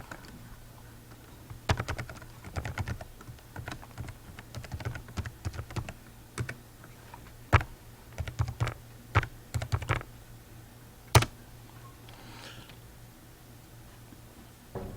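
Irregular bursts of clicking keystrokes on a computer keyboard as a login is entered, close and fairly quiet, with short pauses between clusters of taps over a steady low hum.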